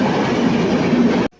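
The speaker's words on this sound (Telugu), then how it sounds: "ఇక్కడ ఒక ట్రైన్ ఒకటి వచ్చింది చూడండి గైస్." Train pulling in at a railway station on the Duvvada to Vijayawada line, a loud close rumble of wheels and carriages rolling past that cuts off abruptly.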